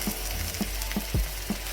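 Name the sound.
chicken pieces added to frying masala for chicken vindaloo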